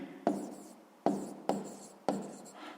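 A pen writes a math answer on paper in four short, separate bursts of scratchy strokes. Each burst starts sharply and fades quickly. The sound is close and quiet, with no talk.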